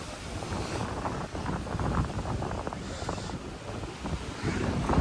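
Choppy, rough sea whipped by strong wind at Nerja, a continuous roar of waves and buffeting wind noise on the microphone, loud and close, with no clear voices.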